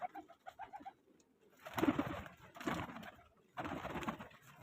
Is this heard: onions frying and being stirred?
no